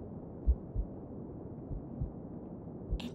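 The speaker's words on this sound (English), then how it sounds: "Can you hear my heartbeat, darling?" A close heartbeat in an ASMR roleplay setting: soft, low, muffled thumps arriving in lub-dub pairs at a slow, steady pace, heard alone over a quiet background hum.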